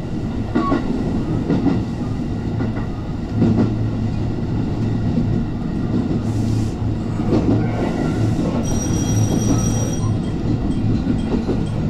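A Biwako Line New Rapid Service train rumbles and clatters steadily on the rails, slowing into a station platform, with a high metallic brake squeal ringing out near the end.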